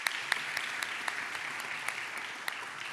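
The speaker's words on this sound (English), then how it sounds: "we can give her a round of applause" Applause at a university honors convocation for an absent honoree, a steady patter of many hands with a few sharper individual claps standing out, moderately loud and continuous.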